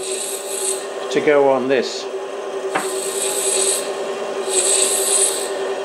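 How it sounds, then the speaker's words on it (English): A brass nut has its internal diameter bored out in light cuts of five thou, giving a steady machine hum with a faint scraping texture throughout, and someone speaks briefly over it. "I'm taking off 5 thou at a time from the internal diameter of this"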